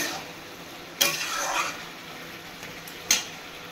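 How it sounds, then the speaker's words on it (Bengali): Whole cumin seeds, bay leaf and torn green chilli stirred in hot oil in a pan, with a faint steady sizzle and two sharp scraping clinks of the spoon against the pan. "ভালো করে এবার আমি নেড়ে নেব।"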